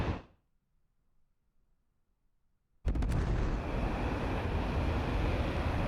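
A sudden deep, bassy supersonic boom from an F-22 Raptor in Microsoft Flight Simulator 2024 erupts after near silence, followed by a sustained loud rumbling roar that continues steadily to the end.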